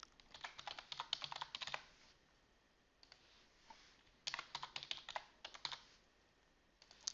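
Typing on a computer keyboard, quiet close key clicks in quick uneven bursts separated by short pauses, with no voices.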